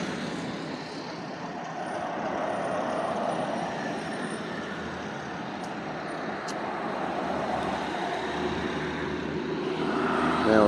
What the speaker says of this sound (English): Now we got some traffic coming this way.